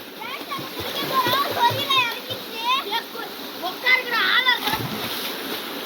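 Water splashes and sloshes nearby in a forest stream or pool while children shout and talk excitedly over it, with the splashing fairly loud throughout.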